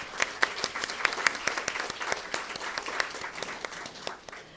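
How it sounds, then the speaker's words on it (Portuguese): Audience applause at a legal seminar on conciliation and mediation, a modest crowd clapping with distinct individual claps standing out, fairly quiet and steady throughout. "Palmas para todos vocês"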